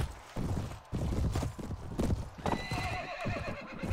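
Horse hooves clip-clop at a galloping pace in the video game Floris, with whinnies and neighs sounding over dense, busy battle noise throughout.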